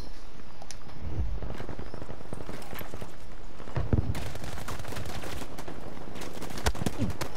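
Rapid gunfire from Battlefield 5 multiplayer in Domination mode, with dense overlapping shots and bursts throughout, several sharper nearby cracks standing out against continuous distant firing.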